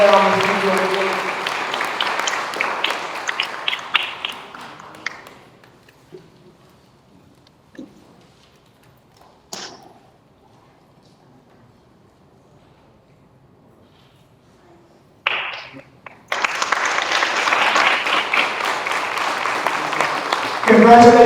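An audience applauds award recipients at a Freeway Day celebration in Philadelphia: clapping fades out over the first five seconds, a near-silent gap with scattered claps follows, and loud applause returns from about fifteen seconds.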